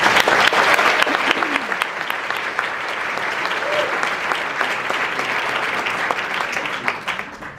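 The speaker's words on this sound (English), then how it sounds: "If I could get a round of applause." A keynote audience at the Wake up to Nature 2019 environmental event gives a round of applause: dense, steady clapping fills the room for several seconds before tapering off at the end.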